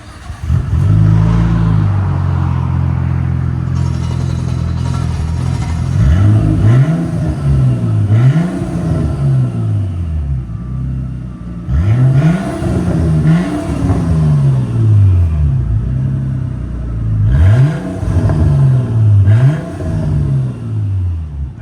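A 1999 Nissan Skyline R34 with a 2.6-litre twin-turbo engine and straight-pipe exhaust, loud and close, starting up and then idling with repeated sharp revs rising and falling in a steady rhythm, with no talking.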